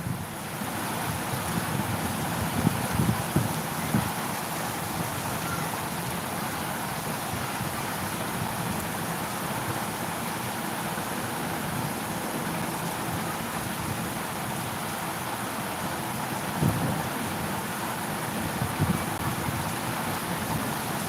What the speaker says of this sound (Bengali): একটু বোঝা যাচ্ছে বৃষ্টি এখানে একটু একটু বোঝা যাচ্ছে